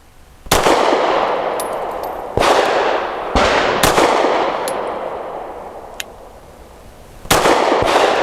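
A Grand Power P1 Ultra pistol firing Winchester Defender ammunition: about six sharp, loud reports at uneven intervals, each with a short ringing tail, and no talking.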